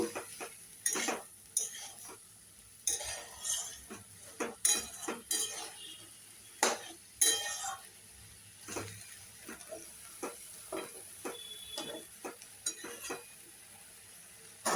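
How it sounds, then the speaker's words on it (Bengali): Eggs stirred and sautéed in a pan for a light egg curry, with a spoon clinking and scraping against the metal in irregular bursts over a faint sizzle, close by and moderately loud. "এবার এই ডিম সমেত একটুখানি কষে নেব"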